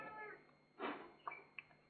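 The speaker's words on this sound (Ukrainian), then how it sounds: "йому не подобається, але все одно нявкає" An old cat meows nearby, one clear drawn-out cry followed by a couple of shorter, fainter mews, with no one talking.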